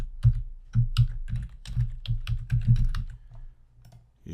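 Rapid, uneven keystrokes on a computer keyboard as an email address is typed into a parents' portal sign-in form, close and clear with short pauses between bursts, no voices.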